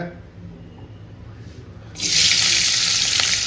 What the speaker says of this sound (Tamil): இப்போ நம்ம உப்பு சேர்த்து வச்ச மிளகாயை இந்த எண்ணெயில் சேர்த்துக்கலாங்க.